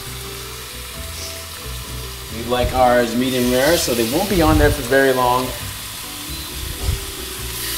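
Steaks sizzle and crackle steadily in a hot pan while a person talks over the frying.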